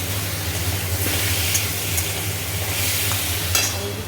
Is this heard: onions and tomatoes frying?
yes